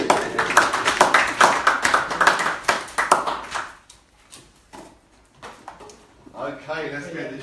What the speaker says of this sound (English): Give Hannah a round of applause.